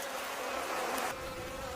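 Honeybees buzzing inside a strawberry greenhouse, a soft continuous insect drone that swells slightly before easing back, faint and steady with no voices.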